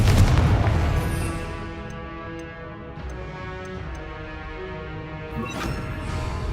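Confringo blasting spell explosion in the PC game Hogwarts Mystery: a loud booming impact at the start that decays into a long ringing, tonal magical shimmer, with a second softer crash-like burst near the end.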